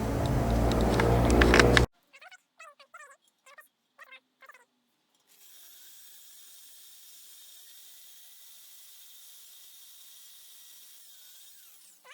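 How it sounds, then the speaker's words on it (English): A grinder ports a Ford Mustang 5.0 lower intake manifold. A loud broadband grinding burst cuts off abruptly, then scattered light metallic clicks are followed by a thin, steady high-pitched whine from the tool running at a distance. "I'm just going to grind another trench here."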